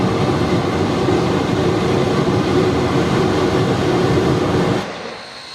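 An 1897 oil-fired steam locomotive rumbles loudly and steadily at close range, a dense mechanical roar that drops away abruptly near the end.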